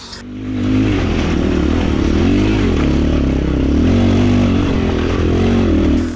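A Kove Advance motorcycle with a ported 172FMM engine accelerates hard at full throttle, a loud, close engine roar climbing and dipping through the gears without pause for about six seconds.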